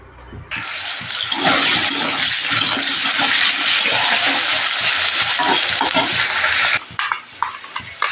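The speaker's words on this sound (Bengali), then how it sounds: "আর এই দেখো শুটকি ভালো করে ধুয়ে নেব" Running water splashes loudly and steadily over dried fish in a kitchen for several seconds, then cuts off, leaving a few small clatters and handling sounds.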